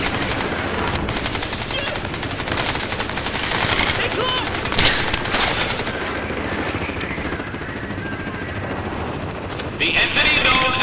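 Incoming automatic gunfire aimed at the player in the shooter Crysis 3: dense, continuous rattling bursts that stay loud through the whole stretch, with game effects layered in and occasional talk over it.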